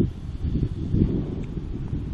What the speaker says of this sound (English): it's just going to fly off because it's quite windy